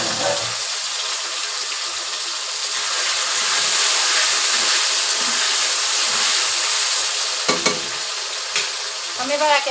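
Ingredients dropped into hot leftover fish-frying oil in a home kitchen, a steady loud hiss and sizzle throughout, with occasional stirring scrapes and clinks near the end.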